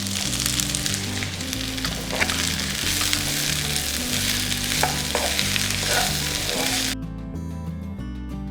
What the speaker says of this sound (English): We'll add in the bacon, then turn off the fire and give it a final stir before you plate it.